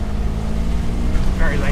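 A 1976 Ford Capri Ghia with engine trouble accelerates, its engine a loud, rough roar in the foreground, with a voice over it.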